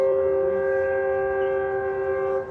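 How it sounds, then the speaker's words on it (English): A steady, loud train horn blares continuously near a crappie fishing spot, its layered tones holding for a couple of seconds before tapering slightly at the end. "Train's blowing."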